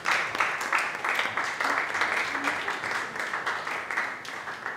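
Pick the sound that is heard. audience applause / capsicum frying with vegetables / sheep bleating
audience applause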